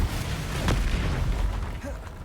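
The Bombarda blasting spell in the video game Hogwarts Legacy, cast during a troll fight, lands as a short, deep boom with a rumbling tail, heard among other game noise.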